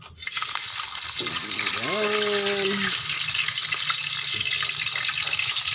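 Fish frying in hot cooking oil, a loud continuous sizzle and crackle filling the whole stretch, with a person talking over it.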